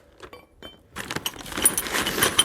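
Metal wrenches from a spare-parts kit for a water-cooled walk-behind tractor being handled, with a few sparse clinks followed by continuous close jangling and rattling that grows louder.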